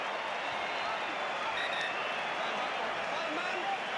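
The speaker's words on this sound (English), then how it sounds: "Plenty of applause too for Tony Woodcock." A stadium crowd at a South Africa versus All Blacks rugby test applauds a substituted player, giving a dense, fairly faint wash of distant clapping that holds steady throughout.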